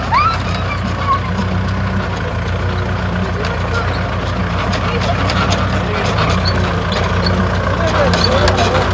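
A tractor engine runs steadily at close range on a farm, a constant low rumble throughout while people talk over it.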